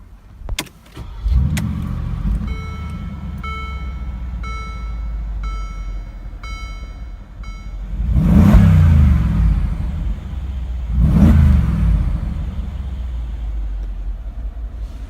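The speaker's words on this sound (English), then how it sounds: "Now let's jump into the driver's seat, start it up and see how it sounds." A luxury SUV is started with a key: the starter cranks, warning chimes beep in a repeating pattern as the engine settles to idle, then two loud revs swell and fade a few seconds apart.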